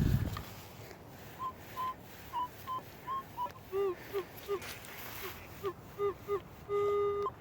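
A metal detector sounds a series of short electronic tones on a likely wheat penny target in Oregon, repeating in quick bursts that shift in pitch, ending with one longer held tone.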